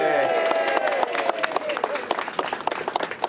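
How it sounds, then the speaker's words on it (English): Small outdoor crowd in Camborne cheering and clapping as a letter is posted into a new King Charles III post box, a brief whoop then scattered close applause thinning out on a chilly morning. "the crowd will once again go wild, I think"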